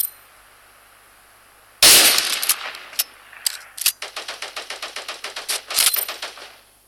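Gunfire in the Cyber Hunter video game: a sharp loud burst, then a run of rapid evenly spaced clacking shots with a few heavier cracks, over faint background.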